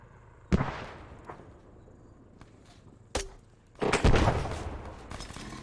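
Frag grenades thrown and bursting in a military combat setting: sharp isolated blasts at intervals, a sudden crack followed by a louder, longer explosion with rumbling tail, nearby and loud.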